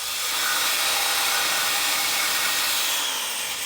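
Power tool cuts into a car exhaust pipe during a Miata turbo build, a steady, loud, hissing grind with no pauses and no talk.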